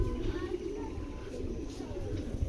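Black racing pigeons give soft, low cooing calls up close, repeated throughout the moment, underneath someone talking over them.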